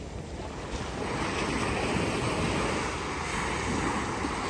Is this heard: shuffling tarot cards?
no